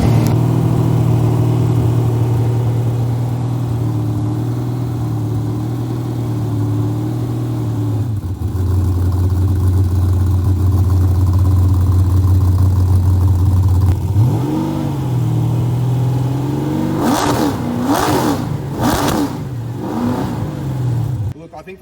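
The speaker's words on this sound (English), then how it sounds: "let's fire this thing up and see how it sounds, Mike." An Ultima RS race car's engine, prepared for Targa Tasmania, idles loudly and steadily, settles briefly, then revs in several sharp climbing bursts near the end, close and dominant throughout.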